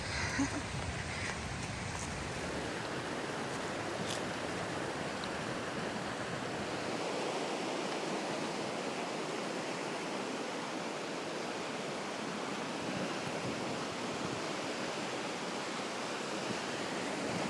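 Continuous rushing river water, a broad steady roar, fairly close and unbroken throughout.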